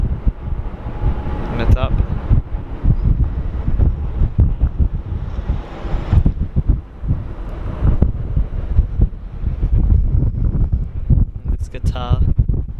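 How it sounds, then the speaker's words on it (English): Strong crosswind buffets the microphone at Sydney Airport, a constant rumbling roar that fills the clip while someone talks throughout and a jet taxis along the runway. "Still very windy, crosswind."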